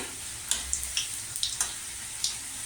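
Two sweet rolls with a coating inside fry in a pan, giving faint sizzling with scattered small pops and crackles at irregular intervals.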